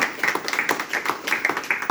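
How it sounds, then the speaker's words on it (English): Audience applause at a community event honoring the Forgotten Generation, heard as a short burst of steady, close clapping from a small group with no talk over it. "So a round of applause for her as well."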